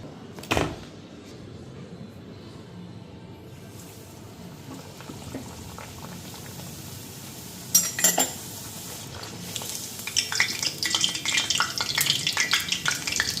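Oil sizzles softly as luchi flatbread fries, with sharp metal clinks of utensils early on and a busier crackle building toward the end.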